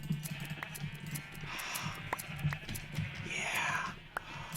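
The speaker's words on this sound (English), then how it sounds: "there's a blue sheep" Minecraft sheep bleat several times in short wavering calls, fairly close, over a soft low murmur of someone talking quietly.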